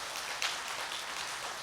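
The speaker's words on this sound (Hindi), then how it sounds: "थोड़ा हाथ ऊपर करके ज़ोरदार तालियों के साथ" An audience at a spiritual gathering claps loudly and continuously for a short burst, a dense, even wash of many hands at close range with no voices.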